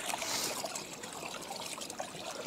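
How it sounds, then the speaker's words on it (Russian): A small stream trickles softly through an unfrozen bog in the snowy Murmansk hills, a faint, steady wash of water with no voices. "Вот тут ручей"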